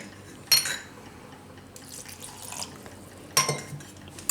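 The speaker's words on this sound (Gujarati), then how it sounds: "તો હવે આમાં થોડું પાણી નાખશું આપણે" Water goes into a cooking pot of tindora and potato curry, with two sharp clinks of a metal vessel against the pot and a soft pouring wash between them, close and with no talk.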